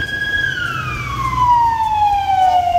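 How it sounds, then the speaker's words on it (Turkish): An ambulance siren wails in the rain, its tone sliding steadily downward as the vehicle passes, over a low rumble of traffic. "Oo ambulansa bak efendim."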